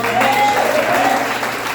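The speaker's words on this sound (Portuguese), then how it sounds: "Você pode aplaudir o nosso Deus?" A church congregation applauds during a worship service, a steady, loud wash of clapping filling the room, with a faint sustained tone running underneath.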